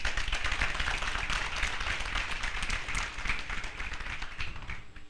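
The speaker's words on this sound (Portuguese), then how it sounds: "Palmas para a CGPMI." Applause for the CGPMI at a Brazilian presentation session, a steady roomful of clapping hands that carries on at even strength for the full few seconds.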